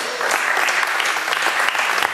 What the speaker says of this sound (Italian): e gli rifacciamo un applauso, Antonio Pennacchi.